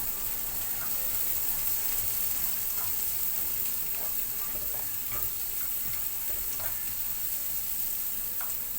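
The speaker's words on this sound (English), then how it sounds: "Now I add on the ginger to fry, to saute together with the onion and garlic, and then the lemongrass" Ginger, onion, garlic and lemongrass sautéing in a pan, a steady, even sizzle and crackle of frying with faint stirring scrapes throughout.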